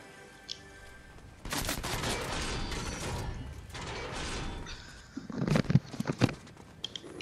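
Video game gunfire breaks out in dense, rapid volleys that fill most of the stretch, with a sharper, louder cluster of shots toward the end; no talk.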